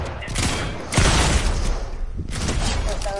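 Gunfire in a Fortnite match: dense bursts and thuds of shooting fill the clip, with a sharp loud hit near one second, while players talk over the action.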